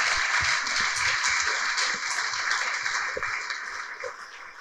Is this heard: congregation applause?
yes